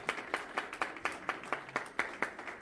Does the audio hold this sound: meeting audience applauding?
yes